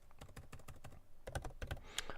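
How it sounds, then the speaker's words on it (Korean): Keys clack on a computer keyboard as a name and email are entered at a login, quick, close taps in short uneven bursts with a brief pause partway through. "이렇게 말하면서 타자치는 게 상당히 어렵네요"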